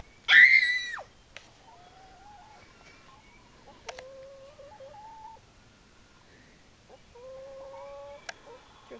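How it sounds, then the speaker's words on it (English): A loud squawk from a chicken opens, followed by softer clucks and occasional sharp calls from chickens nearby in a quiet setting. "Chickens!"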